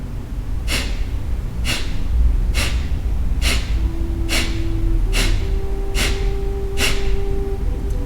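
Kapalabhati yoga breathing, a series of nine sharp forceful nasal exhalations at a steady pace of roughly one per second, close and loud over a constant low background hum.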